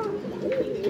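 A pair of Doyel koka pigeons on a farm coo close by in a low, rolling, continuous call lasting about a second.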